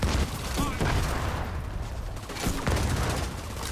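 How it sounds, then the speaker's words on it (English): A mortar grenade explodes during a first-person shooter video game, with a muffled boom and scattered crackling impacts amid continuous noisy battle ambience at moderate loudness. "Mortar grenade explosion!"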